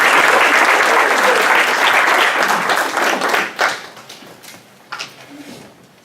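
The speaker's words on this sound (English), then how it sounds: "Let's clap for them." Loud applause from a graduation ceremony audience, dense clapping that swells at first and then thins to scattered claps before dying away after a few seconds.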